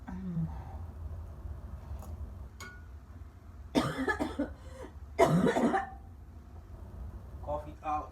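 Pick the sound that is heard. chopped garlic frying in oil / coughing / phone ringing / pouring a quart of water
coughing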